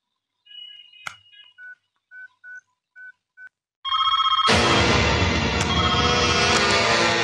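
A telephone is dialed, a quick run of short, evenly spaced keypad tones, then a loud sustained broadband sound takes over, close and clear.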